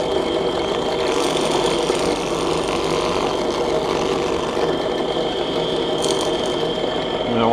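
A Saf-T-Planer cutter thicknesses a wooden archtop guitar plate, giving a continuous loud whirring and rasping drone that stays steady for the whole stretch, with no voices.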